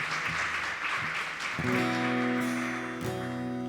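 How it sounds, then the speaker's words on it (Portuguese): Congregation applause for the Lord during a Sunday church celebration service, a dense steady patter of many hands that continues as sustained organ or keyboard chords and singing swell in underneath. "Um aplauso bem forte ao Senhor, amém?"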